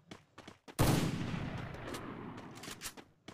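Gunfire in the Free Fire video game: a sudden loud burst of shots that trails off into a dense, rumbling decay, with a few short clicks and faint game sounds before and after.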